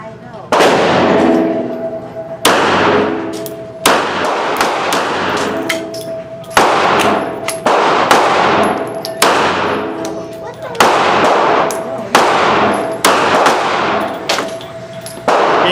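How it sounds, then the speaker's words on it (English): A Kel Tec PMR-30 pistol fires Federal Game Shock 50 grain hollow point rounds in a series of loud, close, sharp reports, with irregular gaps of one to two seconds and a ringing decay after each shot. "getting ready to shoot 5 rounds of the Federal Game Shock 50 grain hollow point."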